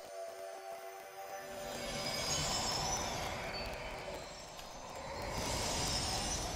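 A train in the Dragon Quest IX game rumbles and swells in steady rail noise, surging louder twice over several seconds with no talk.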